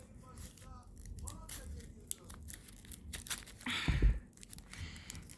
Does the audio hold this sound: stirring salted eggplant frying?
no